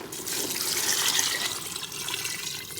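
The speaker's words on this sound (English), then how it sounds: "I've added the beans, and now I'm gonna cover it with hot water" Hot water poured from a tap or kettle over beans in a cooking pot for a Guyanese cook-up, a continuous close splashing and filling rush that holds steady for a few seconds.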